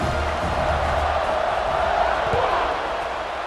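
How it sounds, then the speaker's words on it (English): A dense, steady roar of a stadium crowd buzzes continuously after a touchdown in a college football video game between Wisconsin and Texas, loud and unbroken throughout. "this crowd is buzzing after that last score"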